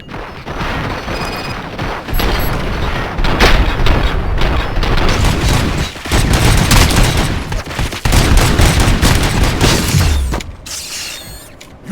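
Gunfire from the video game RoboCop: Rogue City: loud, sustained bursts of automatic fire and booming shots, near and dense, with mechanical clatter between volleys and a brief lull near the end.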